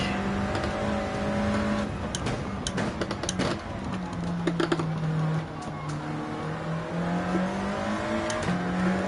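A GTS car in Gran Turismo 7 holds a steady, droning engine note that shifts pitch as it revs and eases, with brief clicks and bumps over the top and a low, lumpy rumble underneath, loud and close throughout.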